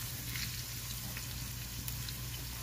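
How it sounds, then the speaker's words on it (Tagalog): Pieces of kalabasa squash fry in a pan, giving off a faint, steady sizzling hiss throughout, with no voices. "Matagal siya maluto. Kaya i-fry natin."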